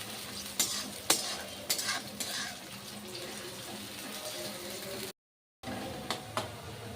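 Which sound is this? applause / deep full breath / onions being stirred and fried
onions being stirred and fried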